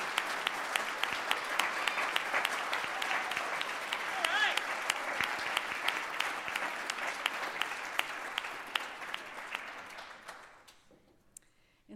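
Audience clapping in a synagogue sanctuary at a Gospel Shabbat service, sustained dense applause filling the room for about ten seconds before thinning out and fading away.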